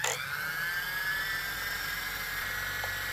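A small RC fire helicopter's motor runs with a steady high-pitched electric whine and whir, close and constant throughout, with a brief click near the end.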